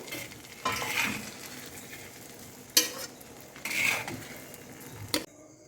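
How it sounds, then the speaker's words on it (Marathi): Eggs fry on a tawa over a low gas flame for a street-style tawa anda masala, with soft steady sizzling broken by a few sharp scrapes and clinks of a utensil against the pan. "अंडे मी मस्त फ्राय करून घेतले आहेत एक दीड मिनिट"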